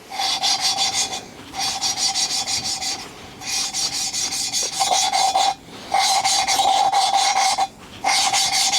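Repeated raspy grinding strokes as a motorcycle engine valve is lapped back and forth against its seat by hand with a suction-cup tool, in several long bursts with brief pauses.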